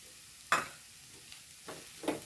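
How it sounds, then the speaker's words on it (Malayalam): Coriander leaves being stirred into a frying pan with curry leaves, giving a few soft scraping strokes over a faint, steady sizzle, with no one talking. "കുറച്ച് മല്ലിയില ഇട്ട് കൊടുക്കണം."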